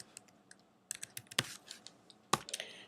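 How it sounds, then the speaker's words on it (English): Quiet, irregular keystrokes on a computer keyboard as a name is typed, with scattered clicks and a few louder taps. "if I type in their name"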